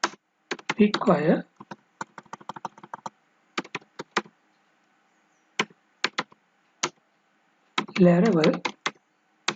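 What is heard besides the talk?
typing a composer command on computer keyboard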